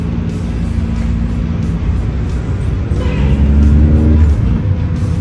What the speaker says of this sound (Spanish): voy a arrancar acá, metí el embrague para meter primero